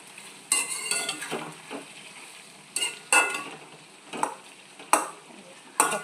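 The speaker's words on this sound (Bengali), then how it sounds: "পেঁয়াজটা যে ভাজা হলো, আর জিরে মৌরি দিয়ে এভাবে ভাজা হবে" Onion fries with cumin and fennel in a pan under a soft sizzle, punctuated by repeated sharp scraping bursts as a spatula stirs, close and intermittent.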